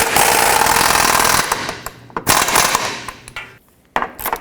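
A tool tightens a bolt on the front lower rearward control arm bushing of a 2004-2008 Acura TL. It gives a loud, harsh, continuous mechanical burst, then shorter clattering bursts with brief pauses between them.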